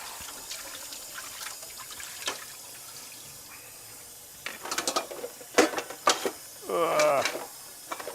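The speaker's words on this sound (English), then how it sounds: "I know it's picking up the clangs of me doing dishes, but can you hear the water running or not?" Tap water running while dishes are washed in a home kitchen, with dishes clanking and clattering and a short gush of water near the end; a soft hiss fills the quieter stretches.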